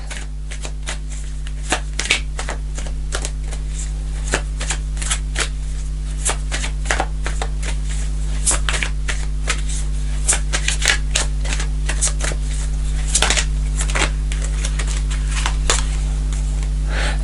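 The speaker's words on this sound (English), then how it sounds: "Let's get another card for this Six of Cups" Tarot cards being shuffled by hand, a dense run of quick crisp riffles and taps that keeps going close up and fairly loud, with no talking over it.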